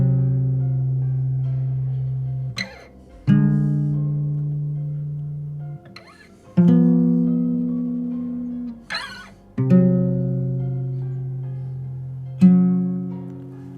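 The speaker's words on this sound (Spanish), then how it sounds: "Tiene un tono nada armónico y se le denominó la nota del diablo." Sustained harmonic tones played as a tritone interval, the dissonant "devil's note", sounding as a series of held, evenly struck notes with sharp attacks every few seconds, clear and moderately loud with no talking.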